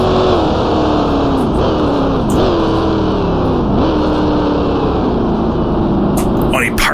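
Race car engine in the sim racing game Grand Prix Legends, a loud, steady high-pitched whine that rises and dips as the driver shifts and gets back on the throttle, with a voice talking over it.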